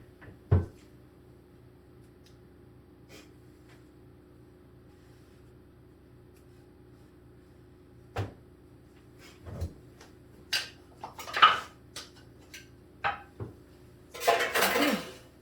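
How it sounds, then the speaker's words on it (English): Home kitchen noise while cooking huevos rancheros with chorizo: mostly quiet, then scattered sharp clanks of pans and utensils and a cupboard thudding shut, building to a cluster of clattering near the end. "I'm going to empty this grease in the trash."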